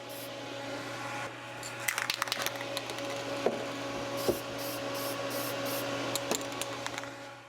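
A steady ventilation fan hum runs throughout while short hissing bursts of lacquer spray onto wood come in quick repeated pulses, interspersed with a few light clicks, indoors.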